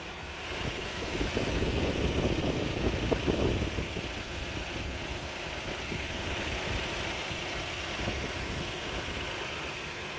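A 2004 Lexus GX470 engine idling at about 1,100 RPM after throttle body cleaning, a steady low hum with a slight swell early on, fairly faint and with no talking.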